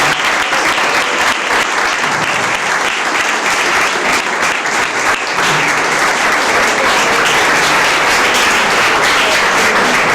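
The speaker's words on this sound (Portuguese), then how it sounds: "Dê uma salva de palmas para o casal." Wedding guests burst into loud, dense applause for the newlyweds Jediael and Atalia at the close of a church ceremony in Araras, São Paulo, a sustained roar of many hands clapping close by without letting up.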